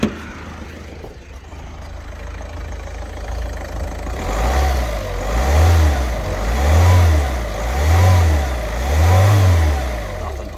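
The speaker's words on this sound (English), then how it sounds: "so we'll give her a couple of revs." A Ford Fiesta 1.4 TDCi diesel with a replaced engine and a boost fault idles, then gets revved in four rhythmic swells that rise and fall, each blip loud and close.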